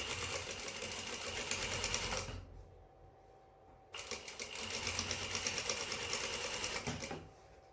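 A sewing machine stitches a back tie on a pair of pants. It runs in a loud, fast, steady buzz, pauses for about a second and a half, runs again for several seconds, and then stops.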